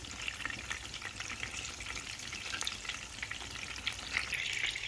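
Chapila fish fry in oil in a pan, a continuous close sizzle dotted with sharp spattering pops and crackles, fairly quiet overall, with no talking.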